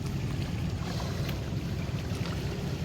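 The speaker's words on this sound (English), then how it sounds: "the waves are crashing with a magnificent sound as other boats pass by in the distance" Surf breaks along a shoreline as boats pass in the distance, a continuous low rumbling wash mixed with wind buffeting the microphone, steady and without voices.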